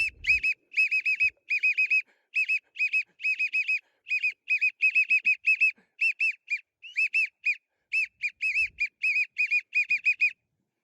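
A whistle imitating the bouncing calls of widgeon ducks on the water, a steady run of short, bright, wheezy whistled notes in quick bursts with brief pauses, close and clean against silence.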